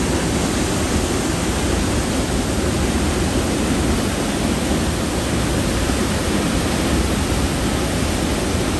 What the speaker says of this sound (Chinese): 这里声音很大，后面全是那个瀑布流水的声音